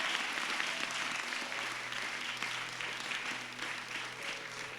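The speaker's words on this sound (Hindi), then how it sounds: "ताली बजाएंगे प्रभु के लिए" Congregation clapping hands in praise during a fasting prayer service, a dense, steady wash of applause sustained throughout at moderate level.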